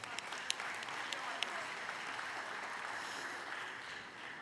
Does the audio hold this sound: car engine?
no